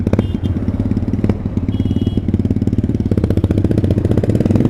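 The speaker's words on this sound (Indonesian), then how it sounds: "ini motornya keren coy. Chopper ya, Makassar Chopper" A chopper-style motorcycle on a Makassar street rumbles close by with a steady, throbbing low engine note, holding near idle with slight rises in revs throughout.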